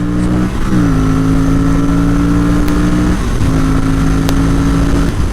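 An Aprilia RS457 motorcycle on the move gives a loud, steady engine drone that holds its pitch apart from a slight dip partway through, with constant wind rush underneath.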